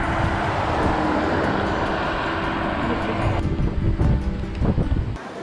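Strong wind roaring and buffeting the microphone outdoors in China, loud and continuous, with gusty thumps toward the end.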